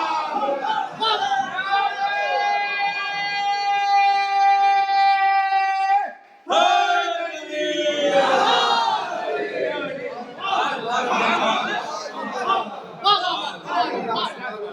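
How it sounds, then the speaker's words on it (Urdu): Crowd at a religious majlis gathering chanting slogans together, elders, youths and children joining in; loud, dense massed voices with a sustained harmonic chant, a brief break, then rising rhythmic shouts throughout. "ہمارے بزرگ کے ساتھ بچے نوجوان سب مولا کے نام کے نعرے میں ساتھ چل رہے ہیں"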